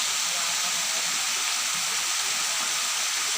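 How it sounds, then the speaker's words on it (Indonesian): The Alam Kandung waterfall in Tulungagung pours in a constant, loud hiss and rush of falling water, steady throughout with no voices. "Mericik air menenangkan hati."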